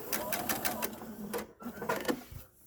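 A domestic sewing machine stitches a fabric facemask in quick rhythmic bursts of needle clatter, close and quiet, pausing briefly before a short reverse run and then stitching forward again.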